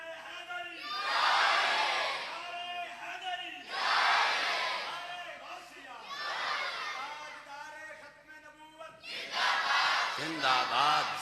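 A crowd at a gathering in 119 Chak Silanwali, Sargodha, roars a slogan back in three loud collective bursts, each swelling and fading, with mixed shouting voices between them.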